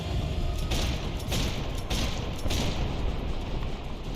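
Dense, continuous gunfire in Max Payne 3 on the Xbox 360, a loud barrage of overlapping shots with a few heavier bursts standing out. The roar runs without pause, and no one speaks.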